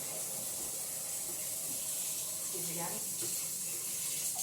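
A kitchen tap runs warm water into a container for pizza dough, a steady faint hiss and trickle while a person briefly speaks.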